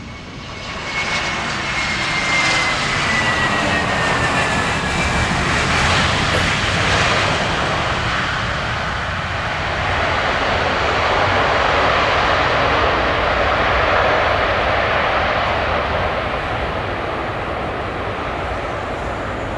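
Vietravel Airlines Airbus A320 landing on runway 07, its engine roar loud and sustained overhead, with a falling whine sweeping down early on and a broad rushing noise that swells and lingers as the jet passes close.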